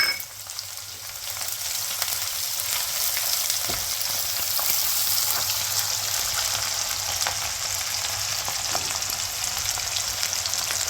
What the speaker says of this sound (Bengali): এখানে পেঁয়াজগুলি আমি একটু ভেজে নেব।